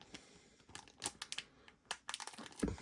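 Scalpel gently cutting a plastic card sleeve, a series of faint, quick ticking and scratching clicks, close and quiet, with no talking.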